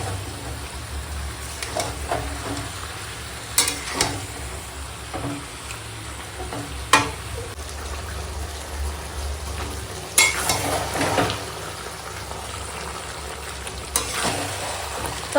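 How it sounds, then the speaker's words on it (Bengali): Mutton coated in ginger, garlic, onion and yogurt sautés in a pan, giving a steady soft sizzle with occasional scraping stirs and clinks of the spoon, close by and without speech. "দেখো মাংসটা এখনো কষাচ্ছি"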